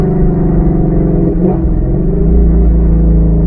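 A deep, steady Shelby GT350 engine rumble running on E85 with throaty exhaust burble, loud and close, idling without much change in pitch.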